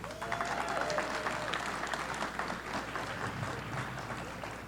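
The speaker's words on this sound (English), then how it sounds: "So let's give him a quick round of applause." Applause from an audience at a press event announcing a school environmental program, steady crowd clapping at moderate distance with faint voices underneath, tapering slightly near the end.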